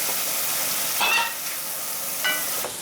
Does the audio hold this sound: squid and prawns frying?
yes